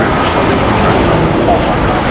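A jet airliner takes off at LAX airport, giving a loud, continuous engine roar that fills the whole moment with voices present underneath.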